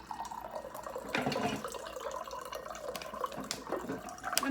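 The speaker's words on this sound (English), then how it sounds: "we pour our freezing water" Freezing water is poured for a crystallization experiment, a continuous splashing trickle with some drips, close by and fairly quiet, with no talking.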